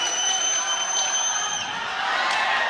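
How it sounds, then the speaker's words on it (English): A boxing arena crowd at a live pro fight cheers and roars in a steady, loud wash, with a few whoops and whistles cutting through. "Crowd coming to life."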